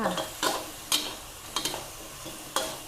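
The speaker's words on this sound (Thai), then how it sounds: "นี่ซี่โครงหมูที่เราพักไว้ใส่ลงไป อ้าวใช้ไฟแรงได้เลยจ้า ผัดคั่วเลยค่ะ" Pork ribs being stir-fried over high heat in a sauce, with a steady soft sizzle broken by several sharp scraping clacks of a utensil against the pan, close and fairly loud, with no voices.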